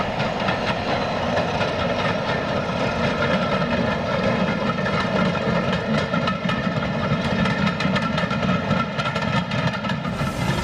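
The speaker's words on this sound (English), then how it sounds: "Seeing the sight and hearing the sound of this fantastic locomotive, I became a fan of Class 33 diesels" A British Rail Class 33 Crompton diesel locomotive, D6515, running on the Severn Valley heritage railway: a steady, loud engine drone with rail rumble and faint rhythmic clatter, continuous throughout with no talk.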